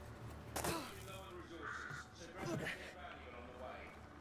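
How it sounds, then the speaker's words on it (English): Crows caw several times at a middle distance in A Plague Tale: Requiem, their harsh calls mixed under game ambience and speech. "Hey, crows! Anybody want a roasted bird?"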